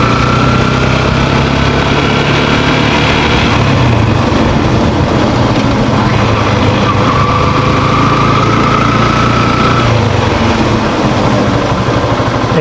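A Yamaha FZ V2 motorcycle engine runs steadily on sandy rural ground, a continuous close, loud mechanical drone with a low rumble that holds throughout, with no talking.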